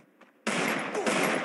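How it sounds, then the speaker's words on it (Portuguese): A sudden loud burst of video game gunfire, dense and sustained like a rapid automatic volley, erupts after a brief quiet moment and continues to the end. "Um tiro esse aí, um tiro marcado."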